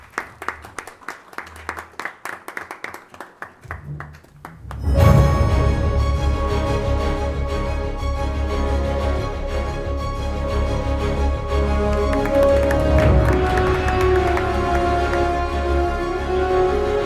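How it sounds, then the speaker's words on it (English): An audience at the International River Congress in India gives scattered, rhythmic clapping for a few seconds, then loud music with sustained tones abruptly swells in and dominates. "Can we have a big round of applause?"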